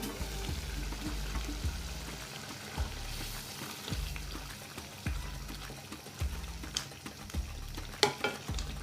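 Mashed snake gourd peel is stirred in a pan over medium heat, producing repeated scrapes and taps against a soft sizzle, with a low hum underneath and a few sharper clinks near the end.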